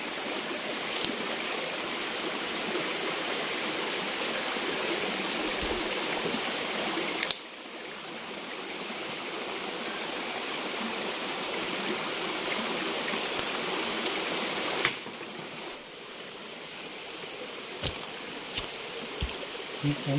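A small forest river flowing murky and swollen just after rain, a steady broadband rush of water running continuously at close range, with a few brief knocks and splashes breaking in and no voices.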